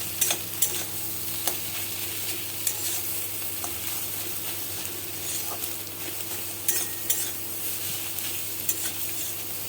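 Egg bhurji frying in a pan with coriander powder, chilli powder and garam masala, a soft steady sizzle broken by frequent scraping and tapping of a spatula as it is stirred, close and fairly quiet, no talk.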